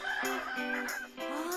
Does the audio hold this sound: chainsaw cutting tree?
no